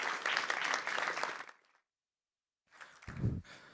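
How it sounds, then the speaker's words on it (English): Applause from a conference audience greeting a speaker coming to the stage, a moderately loud burst of clapping for about a second and a half that fades to silence, followed by shuffling and a thump as the speaker arrives. "So a round of applause for Bhushan as he comes up"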